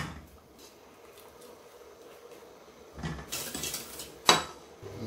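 Cooked cauliflower is drained from a pan in a kitchen: quiet clinks of metal cookware, then a brief splash of water and a sharp clank of the pan near the end.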